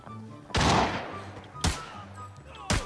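Short FAL rifle gunfire in a video game: three separate loud shots with reverberant tails, spaced about a second apart over a low game background.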